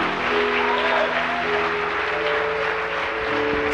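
Steady applause from a church congregation during a sermon, a dense continuous wash of clapping with a sustained musical tone underneath, holding level for the whole stretch.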